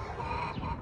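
Chickens on an allotment cluck loudly and continuously close by in a short burst, with no talking.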